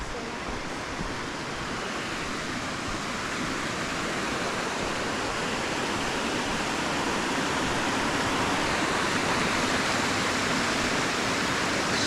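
River water flows near Hidden Falls, a steady, full rushing hiss that holds an even level throughout and grows slightly louder toward the end.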